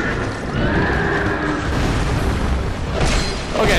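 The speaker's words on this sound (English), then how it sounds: "I'm gonna defeat these cavalry horses" Cavalry horses neigh amid loud game combat in Dark Souls 2 at the Iron Keep, with dense booming and clanking effects running throughout and a brighter whinny-like burst near the end.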